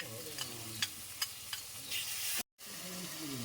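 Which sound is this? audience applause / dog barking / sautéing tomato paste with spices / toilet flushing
sautéing tomato paste with spices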